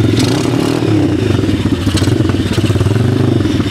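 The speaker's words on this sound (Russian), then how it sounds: "Мы запустили двигатель" Small 125–140 cc pit bike engine running steadily close by, a loud, rapid low putter with a rattly, clattering edge and no revving.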